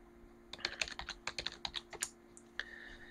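A password is typed on a computer keyboard: a quick run of about a dozen crisp key clicks, close and clear over a faint steady hum, ending with a firmer keystroke.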